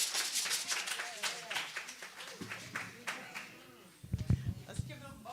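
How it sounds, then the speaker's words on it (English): A congregation at a Sunday church celebration claps in a dense burst that gradually thins out, with voices talking and calling over it, followed by a few heavier thumps near the end. "Let's give them both another round of applause"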